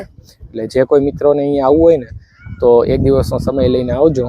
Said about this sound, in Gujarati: મોર બોલે એનો અવાજ આવે છે.